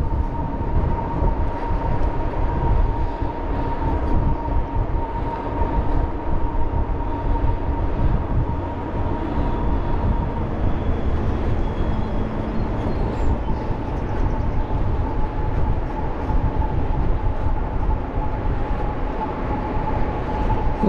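Steady rumble and rolling clatter from inside a moving passenger train, loud and continuous throughout with a faint steady tone on top and no talk.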